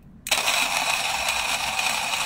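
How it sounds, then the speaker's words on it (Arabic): An electric coffee grinder starts up abruptly and grinds 16 grams of espresso beans with a steady, loud, high whirring buzz, close by and without any talking. "اطحن القهوه"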